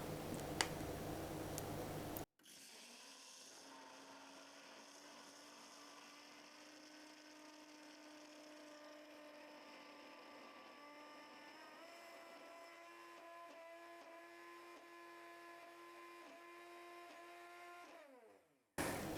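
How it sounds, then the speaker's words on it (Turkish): An immersion blender whirs steadily while mixing olive oil mayonnaise, a continuous motor hum whose pitch shifts slightly as the mixture thickens, running alone for about fifteen seconds before stopping. "Şimdi aldım blenderımı elime. Daldıracağım içine ama hiç kaldırmayacağım."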